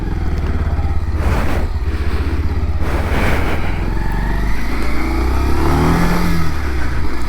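A 2024 Bajaj Pulsar 150 motorcycle pulls away in first gear, its engine revving loudly and close with a steady low throb that rises through the clip.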